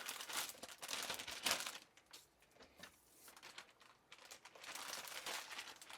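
Plastic crinkling and rustling as 2.5-pound London broil steaks are pressed flat inside a jumbo plastic bag, close and quiet, in bursts with a short pause in the middle.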